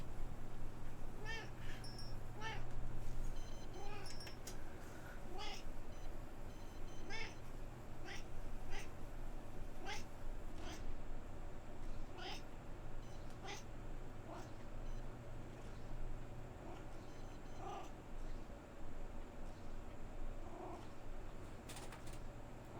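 Cartoon cat meows and low murrs in the video game Laundry Store Simulator, repeated short calls at an irregular pace over a steady mechanical hum with light clicks, moderately loud and close.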